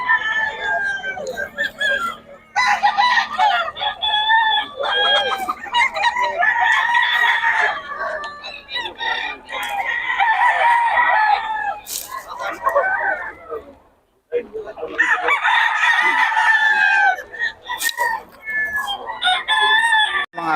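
Chickens and roosters at a poultry market in Bocaue crow and cluck loudly and close, almost without a break, with several birds overlapping and people talking beneath them.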